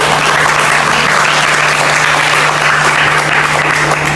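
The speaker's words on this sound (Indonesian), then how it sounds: "Sekali lagi beri tepuk tangan yang meriah untuk" A campus film discussion audience claps for the day's speaker, a steady, dense round of applause that fills the whole moment at even loudness, with a low electrical hum underneath.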